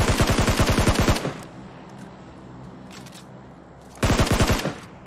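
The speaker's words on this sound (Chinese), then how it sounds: "有枪声，听声音距离很近" Two bursts of rapid automatic gunfire crack close by in a battle-royale shooter game on a gold-island map. A loud burst opens the clip, a quieter stretch of ambient game noise follows, then a second short burst.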